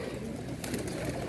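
Pigeons coo softly in a low, throaty murmur, quiet and close, over a faint background hum with no voices.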